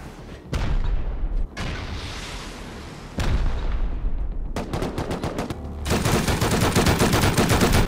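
Gunfire in the video game Rust, sharp bursts of rapid shots separated by pauses, with fast automatic volleys near the end, loud and close with reverberant tails.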